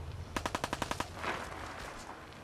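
Pipe rifle firing in Fallout 4, a quick burst of about eight evenly spaced sharp shots followed by a faint echoing tail.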